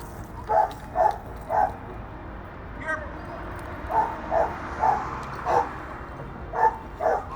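Police dog in training barks during bite work, a series of sharp, fairly close barks in clusters of two or three, repeated across the stretch over steady background noise.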